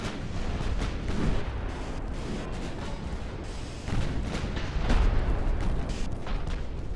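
Secondary battery guns of pre-dreadnought warships firing at destroyers in the naval video game Ultimate Admiral: Dreadnoughts, a steady rumble of distant booming shots with a few heavier blasts standing out, no voices.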